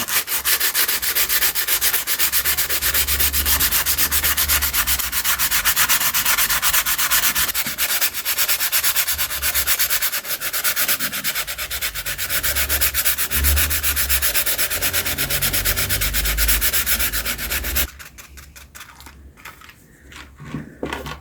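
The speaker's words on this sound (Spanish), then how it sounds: "tomar un pedazo de lija y lijar esta parte de la rasgadera, lijarla y depositarla aquí." Steady, continuous rasping of sandpaper rubbed back and forth close by, rough and loud, easing off to lighter scratching strokes at the end.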